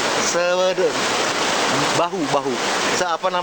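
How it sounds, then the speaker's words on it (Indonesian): Rushing floodwater from the overflowing Kaujon River spreads through a residential neighborhood in Serang, Banten, a loud continuous broadband roar with a reporter's voice speaking over it throughout. "Luapan air mengalir deras meluas ke lingkungan permukiman warga."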